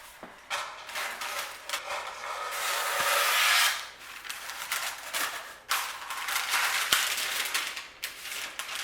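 Scissors snip and rasp through paper along a traced shape for lining a cake tin, a steady run of close, dry rubbing cuts with brief pauses between strokes.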